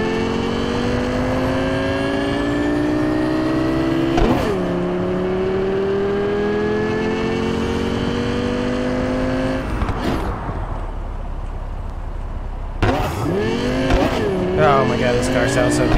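Car engine revving in the video game Cyberpunk 2077, loud and close, climbing through gears with repeated rising pitch sweeps and sharp shift breaks over roughly sixteen seconds.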